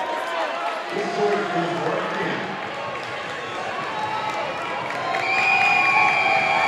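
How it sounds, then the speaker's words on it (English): Crowd in a high school varsity boys basketball gym getting loud during a tense late free throw, a rising wash of cheers and shouts that swells toward the end, with a commentator's voice over it. "The crowd getting wild here at the Fred Williams Memorial Gym"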